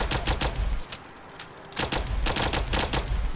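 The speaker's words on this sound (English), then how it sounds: "as fast as you can pull the trigger, this thing will fire" Rapid bursts from an accelerated plasma pistol in Fallout 4 fire as quickly as the trigger is pulled. Dense, loud strings of shots come in two runs with a short gap between them, and no voice is heard.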